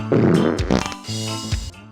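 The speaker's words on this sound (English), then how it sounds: "you can also fart." A cartoonish fart from Gex Jr., a PS1-era platform game character, sounds as a single loud, close, buzzy rasp lasting under two seconds, wobbling in pitch and breaking briefly midway.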